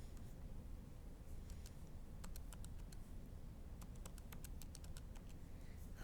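Faint, scattered taps of numbers being typed on a calculator, small sharp clicks in uneven clusters over a steady background hiss.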